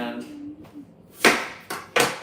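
A knife chops through an onion on a cutting board while prepping vegetables for tomato gazpacho, three sharp, close knocks after a stretch of quiet, with a faint voice early on.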